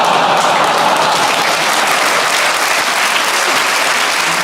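Loud, sustained audience applause fills a French dark-humour stand-up comedy show, a dense steady roar of many hands clapping at once with no voices over it.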